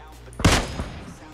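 A single loud gunshot from the video game PUBG Mobile cracks out, then a short decaying echo fades over the following second.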